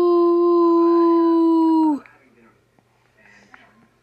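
A voice imitates a wolf howl, one long steady tonal howl lasting about two seconds that cuts off abruptly, followed by faint room noise.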